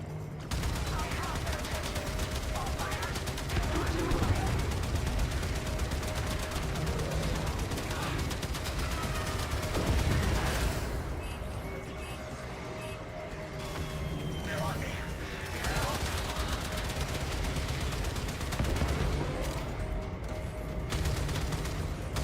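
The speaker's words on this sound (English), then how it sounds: "Gunnery crews, launch torpedoes." Ship torpedo launches and gunfire in the Warframe video game, loud and continuous, with rapid firing, heavy booms and a steady mechanical drone under a voice talking throughout.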